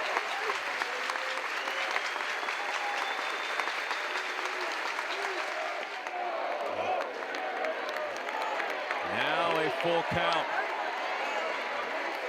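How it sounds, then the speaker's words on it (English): Baseball crowd at an NCAA regional game between Murray State and Ole Miss cheers and claps steadily during a full count, a broad roar with a commentator talking over it. "Crowd's into it."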